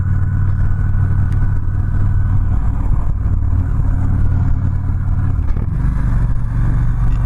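A Victory Cross Country Tour motorcycle with a 106ci engine rumbles steadily up close, with a couple of quick throttle blips lifting the deep engine note.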